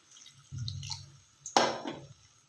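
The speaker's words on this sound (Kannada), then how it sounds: "ಇನ್ನು ಸ್ವಲ್ಪ ನೀರು ಹಾಕ್ಕೊಳ್ಳೋಣ." Water pours into a horse gram mixture in a pan: a low trickle first, then a louder splashing gush that trails off, heard close and without voices.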